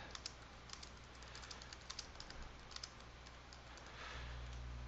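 Light keystrokes patter quickly and steadily on a computer keyboard as text is typed into MicroStation design software, soft and close against a faint background hum, with no voices.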